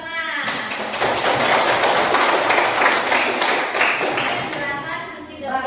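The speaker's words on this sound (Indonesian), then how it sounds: "Berikan tepuk tangan." Students in a classroom art and culture lesson applaud a poster presentation, a close, busy patter of clapping swelling and holding for several seconds, with voices mixed in at the start and end.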